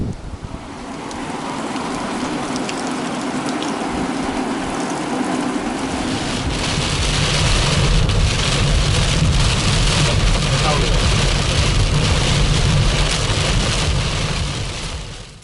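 Heavy rain pours down during a thunderstorm in the countryside, a loud, steady wash that thickens and swells after the first few seconds, with gusty rumbling underneath and no voices.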